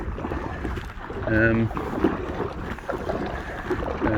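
Wind buffets the microphone steadily while kayaking in an Aqua Marina Steam 412 inflatable kayak on choppy Loch Lomond, a continuous gusty rumble with water slapping against the hull and a brief tonal swell midway.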